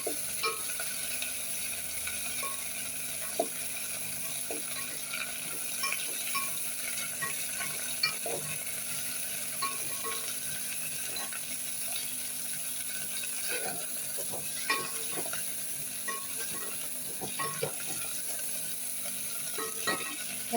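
Vegetables for Tamil kichadi lightly frying in oil, a constant close sizzle with scattered clicks and scrapes of a spatula against the pan throughout, no one speaking.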